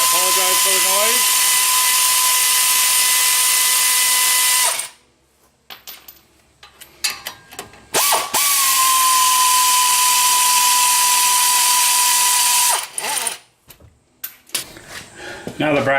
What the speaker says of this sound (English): I can zap them off with the air ratchet. I apologize for the noise.